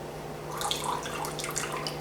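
Rendered ground beef fat drains from a Tupperware MicroPro Grill, a short soft trickle of liquid with faint drips over low background hum.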